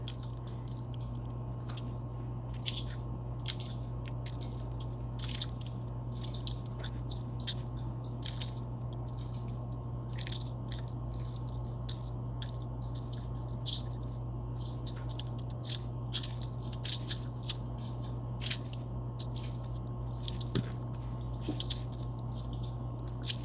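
Scissors cutting a piece of recycled printed paper for a craft project, a long run of quiet, irregular snipping clicks and crisp paper crunches over a steady low electrical hum, no talking.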